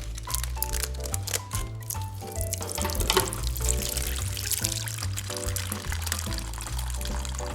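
Hot juice from a smoked pastrami running off the meat into a container, a steady trickling pour heard under loud background music.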